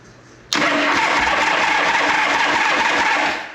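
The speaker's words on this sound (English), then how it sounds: "we're gonna fire up this Shovelhead, let this thing warm up" A 1974 Harley-Davidson Shovelhead FX motorcycle engine cranks and then catches into a loud, steady, close rumble that holds for about three seconds before easing off.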